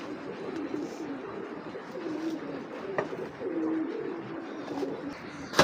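Pair of Giribaz racing pigeons cooing softly at close range, low repeated coos over a faint background rustle, with no speech.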